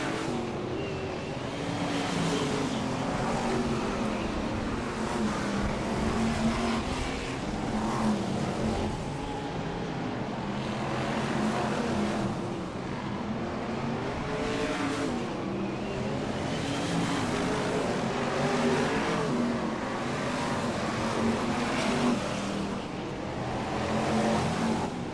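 BriSCA Formula 1 stock cars racing on an oval track at Birmingham in 1992, a steady loud roar of several engines running together for the whole stretch, swelling and easing as cars come round the turns and down the back straight.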